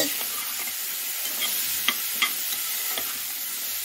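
Pepper masala sundal stirred in a hot pan: a continuous close sizzle with several light scraping taps of the spoon against the metal, moderately quiet and without voices.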